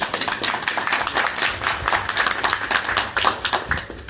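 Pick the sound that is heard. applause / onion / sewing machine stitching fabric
applause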